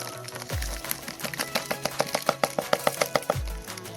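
A spoon stirs a virgin mojito topped with soda in a glass, making a steady, rhythmic series of light clinks against the glass that builds over a few seconds, close up and without talking.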